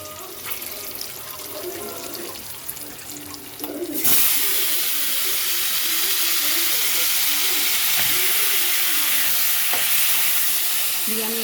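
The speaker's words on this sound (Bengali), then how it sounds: "দিয়ে আমি এইভাবে ভেজে নেবো মাছগুলো, খানিকক্ষণ লাল লাল করে ভেজে নিয়ে" Fish drop into hot oil with five-spice and green chillies and fry in a home kitchen. Quieter scraping comes first, then a sudden loud, steady sizzle that holds to the end.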